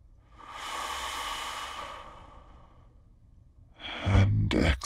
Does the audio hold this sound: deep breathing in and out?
yes